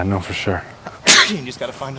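A single sharp sneeze bursts out mid-conversation among a few people, loud and close, preceded and followed by casual talk.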